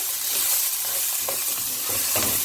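Mexican rice with bell pepper and garlic sizzles steadily in a pan over a medium flame while a spoon scrapes and stirs in short strokes, close and continuous, with no one speaking.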